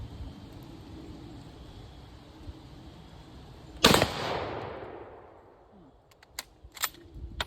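A single loud Mosin rifle shot fired with old Russian hunting ammunition, sharp and close with a long rolling echo decaying afterward over outdoor background noise, followed by faint clicks of handling.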